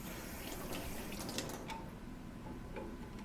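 Water rushing steadily through a double check valve backflow assembly as it is flushed, a continuous hiss with faint ticking and clicks on top.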